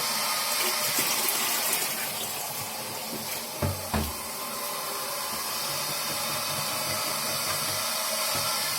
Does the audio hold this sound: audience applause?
no